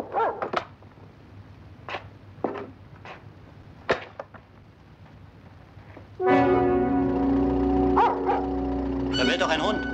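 A dog barks repeatedly in sharp, spaced bursts at a distance near a house in the French countryside, then a car engine starts up and runs steadily, drowning out the barking.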